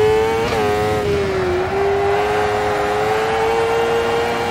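A Crosskart engine revs hard while driving, giving a loud, close, sustained buzzing drone that rises sharply early on, then settles and holds a high steady pitch with slight wavering.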